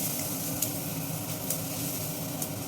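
A ground mixture of ginger, green chilli, coconut and curry leaves sizzles in hot tempering oil for a cabbage curry, giving a steady close hiss with a few small spits and no voices.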